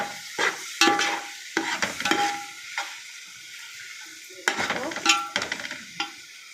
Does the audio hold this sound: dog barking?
no